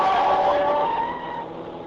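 A car in a radio drama speeds through a city intersection against the light with a loud, close tire screech and engine rush that slowly fades over about two seconds.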